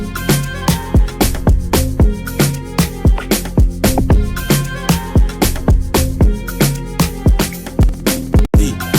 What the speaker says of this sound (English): it's like a violin from Splice.